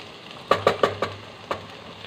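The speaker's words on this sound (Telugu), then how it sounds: "ఈ విధంగా అడుగు మాడకుండా మధ్యలో మధ్యలో తిప్పుకుంటూ ఉడికించుకోవాలి" Okra curry cooking in a pan, with a soft steady sizzle under a handful of sharp spoon-against-pan clinks and scrapes as it is stirred, several in quick succession, then one more after a short pause.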